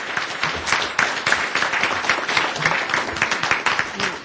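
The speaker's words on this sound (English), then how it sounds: "A round of applause for our panelists." An audience applauds panelists after a discussion on masculinity, with dense, steady clapping from a room full of people, loud and close throughout.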